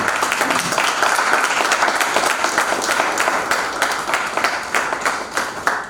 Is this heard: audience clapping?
yes